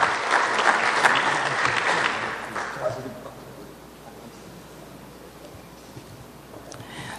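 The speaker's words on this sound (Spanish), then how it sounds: "Lo recibimos con un fuerte aplauso" Strong applause from a crowd welcoming a Guatemalan congressman to the stage at a gathering in Chiapas; loud clapping for about two seconds, then fading quickly into quieter room noise with a few scattered claps.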